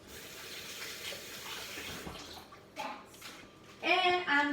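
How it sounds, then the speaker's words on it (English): Water runs steadily from a kitchen tap while hands are washed underneath, a constant hiss with brief clatters near the end, as a voice talks faintly in the background. "I'm gonna go wash my hands."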